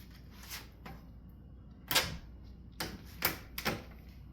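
A wood-stapled panel being torn off, heard as several sharp cracks and snaps spaced irregularly, some in quick pairs, close and fairly clear against a quiet background.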